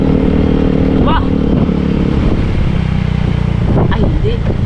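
A motorcycle engine drones steadily and loudly throughout, with voices talking over it.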